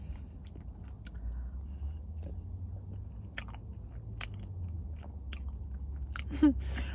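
A slice of Cinnabon Cinnamon Swirl Cheesecake from The Cheesecake Factory being bitten and chewed up close, with soft repeated mouth sounds and faint crunches.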